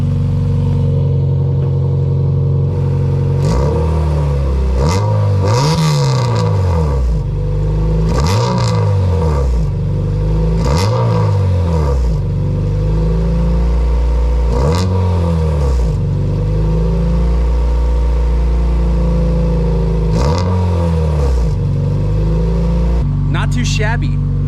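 A Honda CRX with an LS-VTEC engine, a light flywheel and a custom axle-back muffler is revved hard about five times up close. Each rev climbs quickly and drops back to a loud, rough idle.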